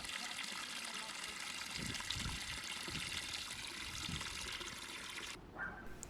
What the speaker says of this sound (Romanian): Pe urmă venim și umplem butoiul cu apă.